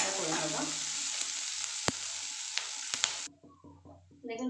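Onions sizzle in hot oil in a pan for a spiced cauliflower and potato curry, a steady close frying hiss with a few sharp stirring clicks, then quieter, broken sizzling near the end.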